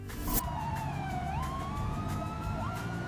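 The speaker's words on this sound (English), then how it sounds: "The ambulance drives very fast with a siren." An ambulance siren wails steadily with a rising and falling tone over a loud rumbling traffic background, near and continuous throughout.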